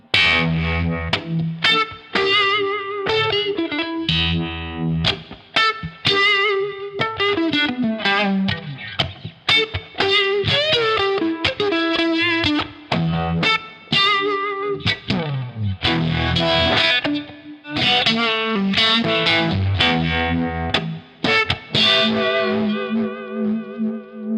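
An electric guitar, a Stratocaster, plays a long passage of chords and riffs through a warbling, swirling vibe modulation effect with some grit, loud and continuous without any voices.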